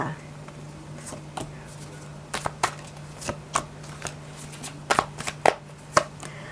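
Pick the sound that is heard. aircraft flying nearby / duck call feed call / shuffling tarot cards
shuffling tarot cards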